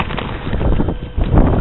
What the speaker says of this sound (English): it's windy outside